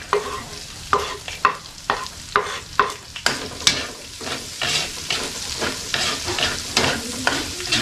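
Garlic frying and being stirred in a pan, with a steady sizzle broken by regular scraping strokes of a utensil, close and fairly loud with no talking.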